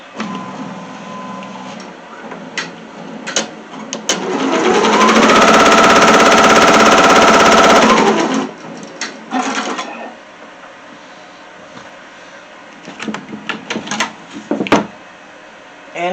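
Sewing machine stitching a piece of a handmade teddy bear: a close, loud burst of rapid mechanical needle chatter lasting about four seconds, framed by quieter clicks, fabric handling and small knocks.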